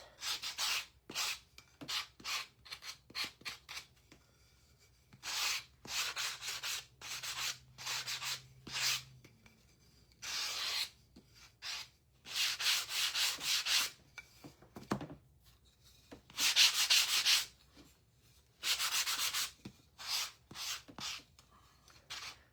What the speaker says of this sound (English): I will sand this back a little bit just to get that smoothness